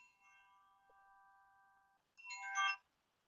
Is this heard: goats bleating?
no